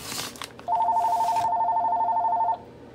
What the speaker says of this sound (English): that's the phone ringing in the background.